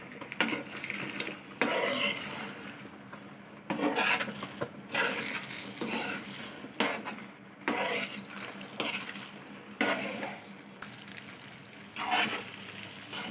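Eggs scrambling in a pan for egg manchurian, stirred with a utensil that clinks and scrapes against the metal in an irregular run of close, moderately loud strokes, with a faint sizzle beneath and no talking.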